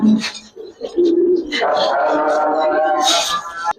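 Soft cooing of Giribaz pigeons, low throaty coos repeating close by, mixed with someone talking over them and some background voices.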